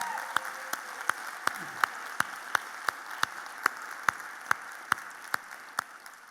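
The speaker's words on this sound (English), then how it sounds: "Let's give a big round of applause to all the people that are tuning in today online." A crowd at the Recovery Reinvented 2023 event applauds as a soft, steady wash of clapping, with sharper individual claps standing out at an even, regular beat throughout.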